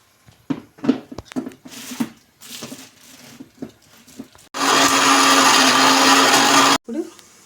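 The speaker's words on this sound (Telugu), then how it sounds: "ఇప్పుడు మిక్సీ ఆడించుకున్నాం." Telugu home cooks run a mixer grinder on chutney of soaked tamarind and water: scattered speech and clinks come first, then a loud steady grinding roar for about two seconds, ending abruptly before a short final sound.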